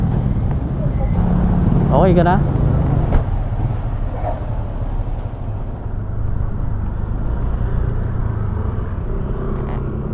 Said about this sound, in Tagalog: Dami kasi sasakyan dito.